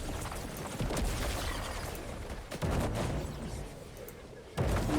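Video game gunfire: sustained rattling shots and booming impacts, close and fairly loud, with several sharp bursts spaced across the stretch over a constant battle din.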